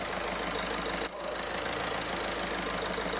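A VAG 1.6 TDI diesel car engine runs steadily at idle, a continuous close rumble with a faint knocking texture and a brief dip midway, no talking.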